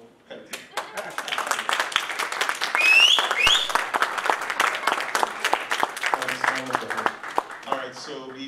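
Applause from a training session audience, uneven hand claps that build and then thin out, with talking mixed in.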